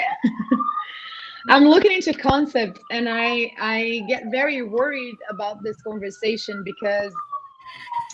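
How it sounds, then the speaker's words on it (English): A street siren in New York wails in the background, its long rising and falling tone running under close, continuous talk. "Sorry for the sirens."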